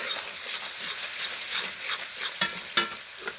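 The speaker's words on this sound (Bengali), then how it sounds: "এখন মশলাগুলো হালকা ভেজে নেবে।" Ginger, garlic, cardamom and cinnamon spice paste frying in a pan for a beef curry, a steady close sizzle with scraping stirs and a few sharper spatula clicks near the end, no voices.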